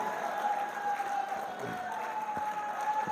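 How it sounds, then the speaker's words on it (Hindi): Applause from a mushaira audience welcoming the poet Tahzeeb Hafi at a golden jubilee gathering, a steady wash of distant clapping filling the hall at moderate level with no voice over it. "भरपूर तालियों से इस्तकबाल कीजिए"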